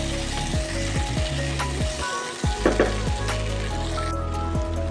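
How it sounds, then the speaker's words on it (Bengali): Potatoes tossed with ground black pepper fry in a pan with a steady sizzle, while a spatula scrapes and clanks against the metal in repeated strokes, close and fairly loud. "দিয়ে এটাকে আবারও ভালো করে নাড়তে থাকবো"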